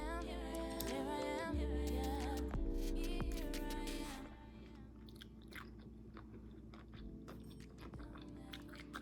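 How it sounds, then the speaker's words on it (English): Close-up chewing and biting, with wet, crunchy mouth sounds repeating steadily over a sustained droning tone that fades partway through. "Cause it's a lot of chewing."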